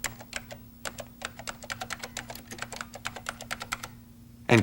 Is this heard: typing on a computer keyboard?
yes